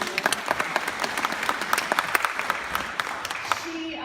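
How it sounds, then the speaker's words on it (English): An audience at a WordCamp Denver 2018 keynote applauds steadily, many hands clapping in a dense, continuous patter, with a brief voice near the end. "Everyone clap for Bethany."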